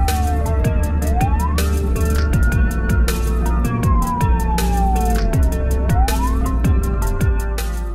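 An ambulance siren wails in Bijeljina, its tone sweeping up and down in long continuous glides and staying loud and close throughout, alone with no talk.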